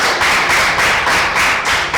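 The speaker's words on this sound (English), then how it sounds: "A very big round of applause for both teams" Applause from a school quiz show audience for both competing teams, a dense, steady wash of many hands clapping at close range with no talk over it.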